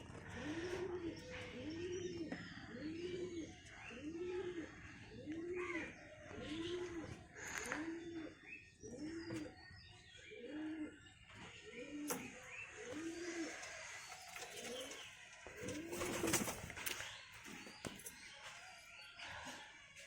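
A pigeon coos repeatedly in a steady series of soft, rolling calls, close by, with other birds chirping and faint background noise around it.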